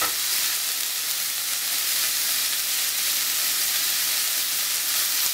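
Steady, bright sizzling of vegetables frying in lard, periodically stirred with a spatula, a continuous close crackle with no voices.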